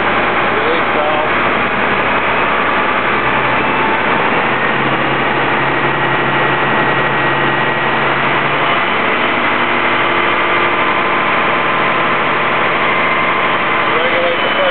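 A fire engine's pump runs at high pressure with the engine throttled up, a steady loud droning hum that persists throughout as a voice talks over it.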